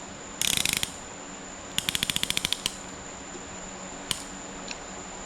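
A piston ring compressor being tightened around a piston during engine assembly, giving rapid ratcheting clicks in two short bursts followed by a single later click, close and crisp over quiet background.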